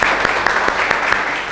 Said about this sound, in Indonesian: Beri tepuk tangan dulu Mas Alvis